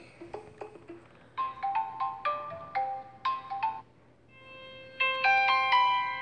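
A Samsung S7 phone plays the Over the Horizon S9 ringtone, clear plucked, chime-like melodic notes in short rising phrases, pausing briefly before a fuller sustained chord passage, close and alone.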